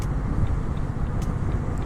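Steady highway traffic rumble on the road from Shimla into Delhi, a dense continuous low roar of cars and heavier vehicles with no distinct pass-bys and no talking.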